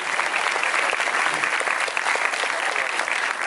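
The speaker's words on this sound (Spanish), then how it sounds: "Un aplauso para Jesucristo." Sustained applause from a church congregation, dense steady clapping filling the whole stretch at an even, loud level with no pauses.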